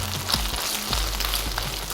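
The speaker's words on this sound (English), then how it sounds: "Now I'm going to scramble our eggs." Eggs scrambling in a hot pan that was just used to fry rice give a steady close sizzle, with a few soft scrapes and taps of a utensil.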